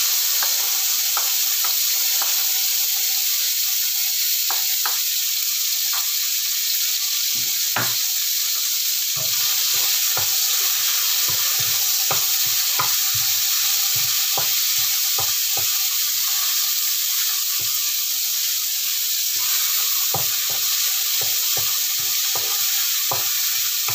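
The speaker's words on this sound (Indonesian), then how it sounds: "ini aku mau masak daun ubi" Cassava leaves fry and get stirred in a hot pan, a loud steady sizzle running throughout with frequent scraping, clattering stirring strokes layered on top, close up and without talk.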